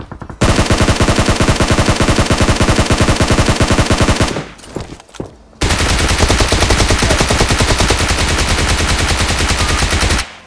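Rapid automatic gunfire in the PUBG Mobile battle royale game, with loud continuous bursts of fast shots, a brief pause with scattered sounds, then another long sustained burst.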